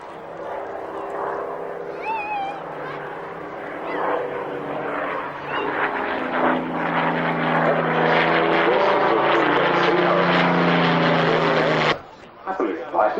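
Propeller aircraft at the 1999 Duxford Flying Legends Airshow drone loudly overhead, their engine noise swelling as they pass, while someone speaks over the steady roar before it cuts off.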